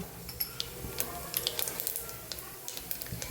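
Mustard seeds crackle and pop in hot oil over a steady hiss, with sharp, irregular snaps close by.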